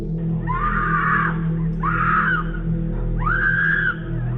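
Three drawn-out, high-pitched screams, each lasting about a second, with short gaps between them, recorded at night by a doorbell camera over its steady low hum.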